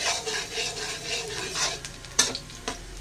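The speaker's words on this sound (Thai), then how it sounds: "เจียวกระเทียมให้หอมก่อนนะครับ" Chopped garlic fries in hot pork fat with a continuous soft sizzle, while a utensil scrapes and stirs the pan several times at close range.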